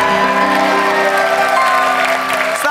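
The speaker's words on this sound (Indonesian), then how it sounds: "tepuk tangan untuk kedua tim nih." Game show studio audience applauding both teams, loud continuous clapping blended with bright, steady background music.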